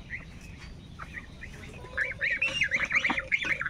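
Ducks near a chicken coop quack and honk in a rapid, rising series of nasal calls, faint at first then louder and clustered toward the end, over a low outdoor background.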